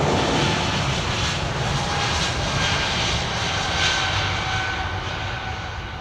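An Airbus A330 jet airliner at London Heathrow Airport passes with a steady, smooth engine roar, broad and fairly even in loudness, fading slightly at the end.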